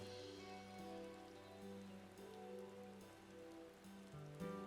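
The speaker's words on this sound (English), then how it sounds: "It's raining now." Rain falls in the video game Final Fantasy XIV, a soft, steady patter faintly layered beneath sustained, tonal background music, quiet throughout with light pulses of drops.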